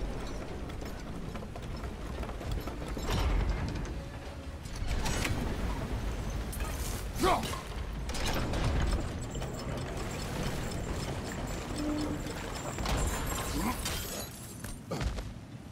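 A water-powered wheel mechanism turning in God of War Ragnarok, heard as a steady run of ratcheting, creaking gear clicks with a few louder clanks, held at a fairly constant level for the whole stretch.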